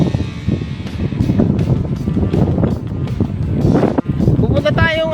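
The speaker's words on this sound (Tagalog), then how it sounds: "Lakas ang hangin guys eh." Strong wind buffets the microphone in loud, rumbling gusts at Hulagaan, with boat and rough water noise underneath and a voice talking over it.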